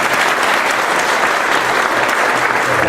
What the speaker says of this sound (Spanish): y para quien pido un fuerte y caluroso aplauso.